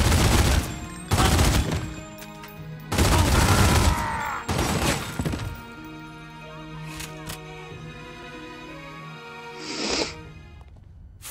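Pistol fire in The Godfather video game: a few loud, close shots in quick bursts over the first five seconds, then quieter game ambience with a faint sharp click near the end.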